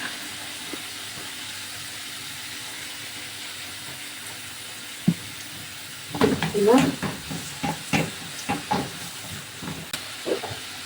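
Spinach cooking in oil in a pan gives a steady soft hiss, then bursts of sizzling and stirring clatter pick up partway through and continue in uneven pulses, close and moderately loud with no voices.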